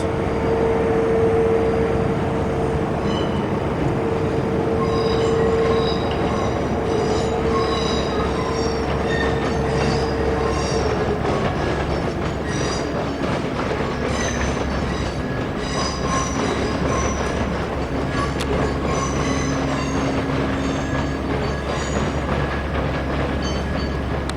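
A train pulls out of a station at night with a loud, steady rumble, high squealing wheel tones and faint clicking over the rails, close by and unbroken throughout.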